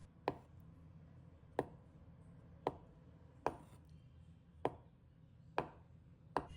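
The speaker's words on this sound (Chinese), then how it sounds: "将其切成厚片，切的时候可得小心，动作轻点，不然豆腐很容易碎裂。" A knife cuts a block of tofu into thick slices on a board, landing seven evenly spaced, crisp chops about one second apart, close up over a low background hum.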